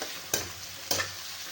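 Onion sautés in a pan under a soft, even sizzle, with two sharp spatula scrapes against the pan.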